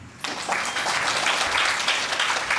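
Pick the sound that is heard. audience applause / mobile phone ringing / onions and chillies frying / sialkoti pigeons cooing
audience applause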